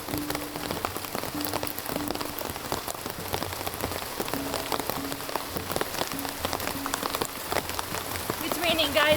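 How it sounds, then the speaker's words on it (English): Rain falls outdoors over an overgrown jungle property, a dense steady patter of drops striking surfaces close by, with a voice briefly audible near the end. "It's raining, guys."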